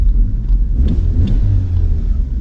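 Engine of a 20-year-old car idling quietly, a steady low rumble close by with no talk.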